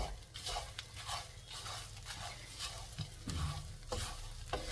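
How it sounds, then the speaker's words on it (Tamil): Curry leaves and tamarind dry roasting in a pan over a low flame give a steady close sizzle and crackle, with scraping stir strokes throughout and no talking. "உங்களுக்கு அந்த சடச்சடச்சலன்னு வெடிக்கிற அந்த சத்தம் வந்து கொஞ்சம் கம்மியாயிடும்."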